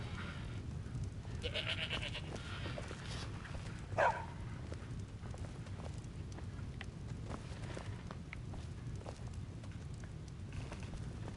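A goat bleats once in the video game Skyrim amid steady background ambience resembling light rain, quiet and continuous throughout.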